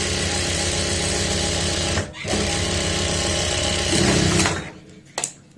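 A sewing machine runs a steady, continuous stitch along a churidar pajama seam, with a brief pause near two seconds, then slows and stops with a couple of short bursts at the end.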